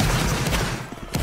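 Musket volley fire in a Napoleonic Wars multiplayer battle, a dense crackling fusillade of overlapping shots with a louder burst near the end, close and loud.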